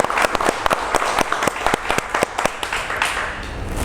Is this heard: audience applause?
yes